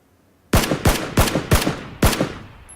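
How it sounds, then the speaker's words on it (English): Five loud gunshots from a rifle in the battle royale video game PlayerUnknown's Battlegrounds, fired at a steady pace about a third of a second apart, each with a sharp crack and a short decaying tail, with no talk. "I take some shots."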